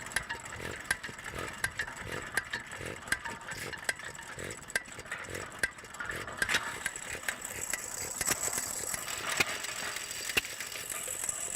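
A small engine being spun up to start at an agricultural expo: faint rhythmic mechanical ticking and clattering, with a ratchet-like quality, set against a noisy outdoor background.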